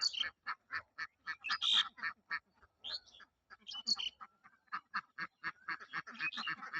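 Laying ducks on a small farm quack repeatedly nearby, a dense run of short nasal calls in quick bursts with brief pauses, several birds overlapping.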